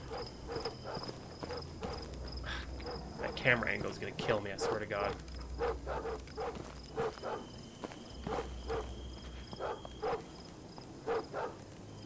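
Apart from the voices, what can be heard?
dogs running and barking in the video game Them and Us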